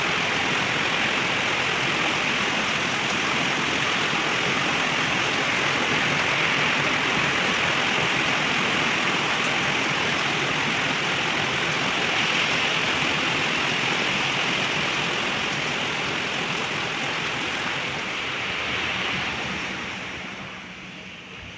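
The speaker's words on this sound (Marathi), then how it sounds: "खूप पाऊस सुरू झालेला आहे आता मला आरावला स्कूलमध्ये पण जायचं आहे" Steady, dense rush of heavy rain pouring down close by on a terrace, loud and unbroken throughout, easing slightly near the end.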